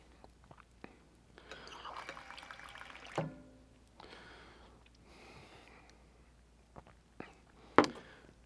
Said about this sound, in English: I don't know if it's going to be any better if I just pour it here.